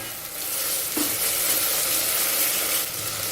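Tomato pieces frying in a pan, a loud, dense sizzle that holds steady throughout, with occasional stirring scrapes and no talking.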